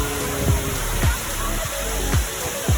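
Madakaripura waterfall near Probolinggo roars as a steady, broad rush of falling water heard from a hilltop, with several brief, sharp knocks and thumps close by over the constant wash.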